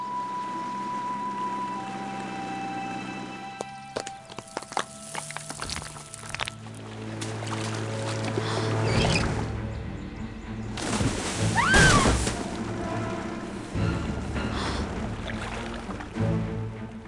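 A boat in the mobile game Darkness and Flame moves across water with sloshing and splashing, building from a quiet start into fuller churning surges and a sharp crack midway, all heard without talking.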